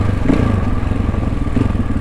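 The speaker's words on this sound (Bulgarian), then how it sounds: "Дел, как да мога ги мести скоростия този мотор, брат, много странно" An enduro motorcycle engine runs steadily up close while the rider changes gears, giving a loud, continuous mid-pitched drone with a couple of brief clunks from the gearbox and no talking.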